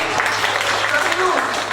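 A brief burst of audience clapping at a talk on hypertension, steady and fairly loud throughout, with a speaking voice running over it.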